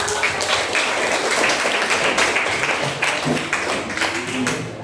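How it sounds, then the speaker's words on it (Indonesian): Students in a classroom clap together in a fairly loud, brief burst of applause that continues unevenly and softens slightly near the end. "Oke, tepuk tangan."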